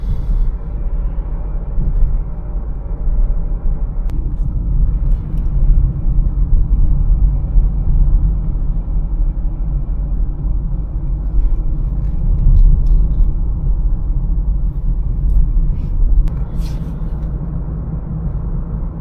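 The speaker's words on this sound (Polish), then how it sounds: "Teraz pod górkę dodaję gaz i nie odcina." Mazda CX-3 accelerating uphill, heard as a steady deep engine and road rumble from inside the cabin, fairly loud and continuous with no speech.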